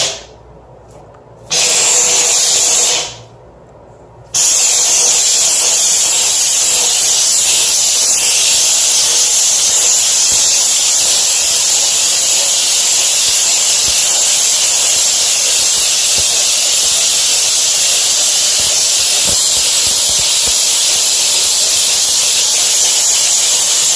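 A HomeRight SteamMachine steam cleaner blasts a grimy bathroom sink bowl, a loud continuous jet of hissing steam after two short bursts separated by brief pauses, running steadily with no talking.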